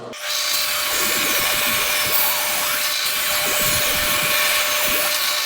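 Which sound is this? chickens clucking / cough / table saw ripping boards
table saw ripping boards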